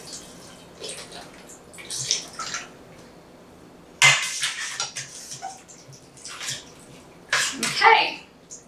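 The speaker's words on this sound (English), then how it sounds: "I'm going to add another probably half a box of chicken broth" Chicken broth from a carton poured into a cooking pot for pork posole green chili stew, heard as bursts of splashing liquid and clinking against the pot, with quieter gaps between pours.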